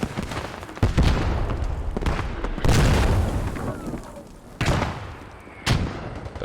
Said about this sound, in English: we do see an arty barrage here that might have taken out the 88